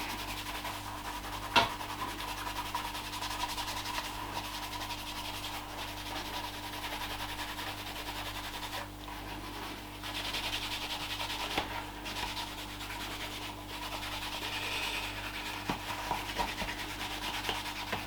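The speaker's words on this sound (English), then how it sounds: "So I'll try to give it a little bit of buffing and see if there's any difference." A clean cloth buffing a leather knife sheath for a bushcraft knife, giving a soft, steady rubbing sound that runs continuously and close by, with a few faint knocks.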